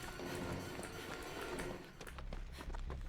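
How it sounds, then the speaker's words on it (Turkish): Footsteps in the horror game Dead by Daylight, a run of quick soft thuds over a dense ambient rumble, moderately close, with a brief lull near the end before the steps resume. "Ayak sesini duydum var ya yemin ediyorum sana ayak sesini duydum."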